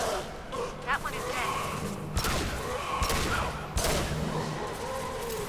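Gunfire in the video game Mass Effect 2 Legendary Edition, several sharp shots spaced apart amid combat noise, with character voices speaking between them.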